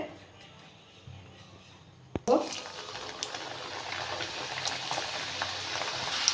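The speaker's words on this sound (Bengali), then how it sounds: "আমি এবার ভেজে নেব।" Flour nimki frying in hot white oil in a wok, a sharp clatter as pieces drop in, then a steady, bubbling sizzle that swells and holds, close and moderately loud.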